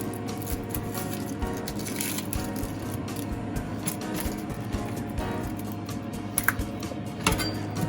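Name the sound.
knife cutting and peeling an onion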